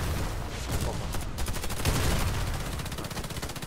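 Rapid bursts of gunfire and blasts crackle through the soundscape of the video game Warface, a dense fusillade of repeated shots with a booming explosion partway through.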